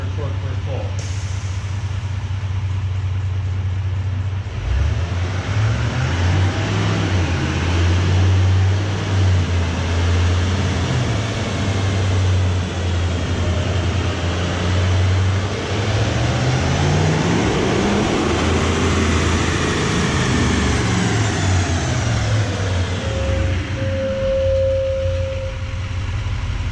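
An L5P Duramax diesel pickup makes a full dyno pull, its loud engine roar rising steadily in pitch and building to a peak before easing off, with voices talking over it throughout.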